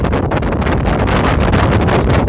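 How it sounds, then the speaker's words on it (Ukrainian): Strong wind buffets the microphone in loud, continuous roaring gusts with no pauses, out in a field during fallow cultivation with a KhTZ-121 tractor and KPS-6 cultivator. "це вітер, ви бачите"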